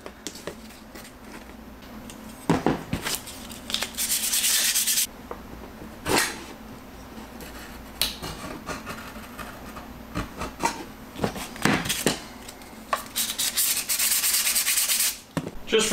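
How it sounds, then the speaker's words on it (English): Cured epoxy is sanded off a failed model rocket by hand, with irregular bursts of harsh, gritty scraping and rubbing separated by short pauses and small knocks, close and fairly loud, without speech. "you can sand it pretty easily"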